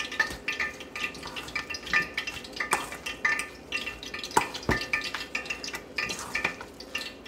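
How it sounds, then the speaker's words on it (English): Duck curry being stirred in a pot, with irregular scraping and knocking clicks of a utensil against the pot sounding close and moderately loud throughout, alone without talk. "And we're gonna mix this up now"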